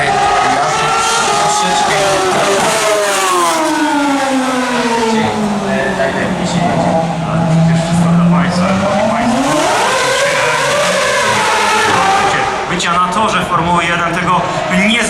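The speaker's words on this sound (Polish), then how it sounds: "niezwykłego dźwięku, który emitowany jest przez jednostki napędowe bolidów Formuły 1" V8 Formula 1 racing car engines scream and rise and fall in pitch as the cars pass in Warsaw, loud and continuous, with a commentator talking over them.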